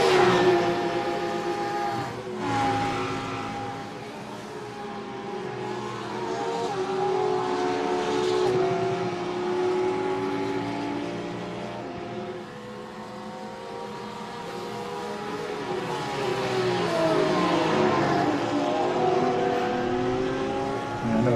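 A Lamborghini race car screams around the Bathurst circuit, its engine note rising and falling continuously through gear changes and corners, loud and sustained, with other cars blending in the background.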